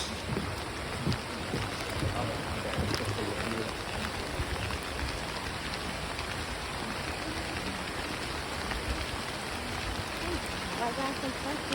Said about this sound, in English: But you said it was going to be raining while we were here,